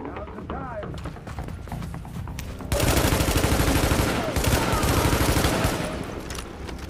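Weapon fire in The Division co-op beta, starting with quieter scattered shots and a voice talking, then breaking into a loud, sustained automatic burst for several seconds that eases slightly near the end.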